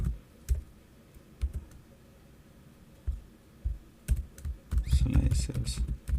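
Scattered keyboard keystrokes and clicks from someone building a profit and loss dashboard in Power BI, sparse taps early then a denser burst of typing near the end, a voice speaking faintly underneath.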